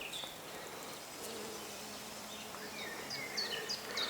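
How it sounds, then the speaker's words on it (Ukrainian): Faint steady buzzing of bees working buckthorn flowers in a forest, a low hum over soft background noise, with a few distant bird chirps. "Бджола працює на таких квіточках."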